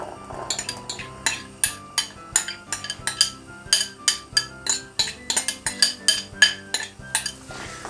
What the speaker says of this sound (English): Now we're going to put in the celery